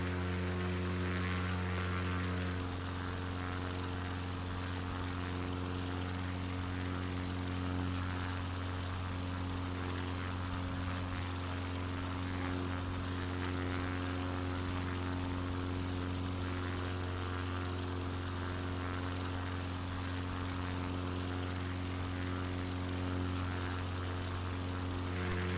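A float plane's propeller engine drones steadily in Microsoft Flight Simulator 2020, flying from Yakataga to Icy Bay, Alaska; a loud, constant buzzing hum holds without a break.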